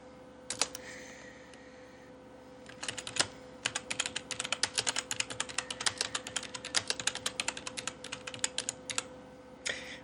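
Keys clatter on a computer keyboard in quick irregular bursts of typing, with short pauses between runs, close-up and crisp with no talk.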